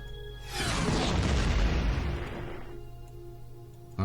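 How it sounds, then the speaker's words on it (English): A grenade blast in the video game The Spatials, one loud roaring boom that swells quickly and trails off over about two seconds, heard alone with a faint tick afterward. "I probably shouldn't have chucked a grenade at him"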